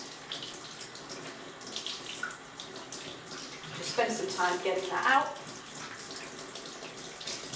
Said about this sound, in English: check that the water is running clean